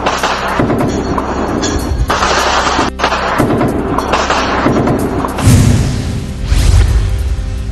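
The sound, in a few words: gunfire on the border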